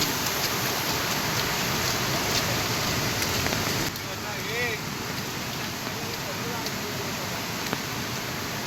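Heavy monsoon rain pours down in the Konkan countryside as a dense, steady roar of water that carries on throughout, with a faint voice briefly audible under the downpour.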